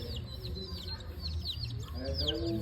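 Chickens on a farm settle down to roost at six in the evening, soft clucks and chirps from a small flock close by, with a faint background hum.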